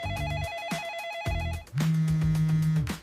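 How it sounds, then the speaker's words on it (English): A telephone ringing sound effect: electronic ringtone tones that repeat in a steady pattern, with a louder ringing burst in the second half, all close and clear with no talking. "The phone rings. Nobody answers."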